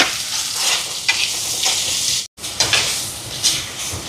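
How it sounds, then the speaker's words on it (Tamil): Tomatoes sauté with softened onions in a pan for a Jaffna-style egg curry, giving a loud continuous sizzle broken by repeated stirring scrapes and a brief silent gap midway, with no talking. "தக்காளி பழம் கொஞ்சம் வதங்குது"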